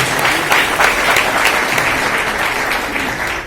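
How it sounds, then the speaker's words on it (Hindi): A large audience at a motivational speech gives loud, sustained applause for two people, dense continuous clapping close and strong throughout. "इसलिए इन दोनों के लिए एक बार जोरदार ताली होनी चाहिए।"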